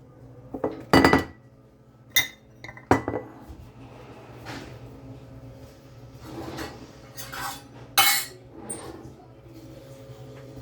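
Kitchen clatter while handling an oil bottle during homemade muffin baking: a few sharp clinks and knocks of bottle and dishes, near and fairly loud, separated by quieter rustling and faint handling sounds.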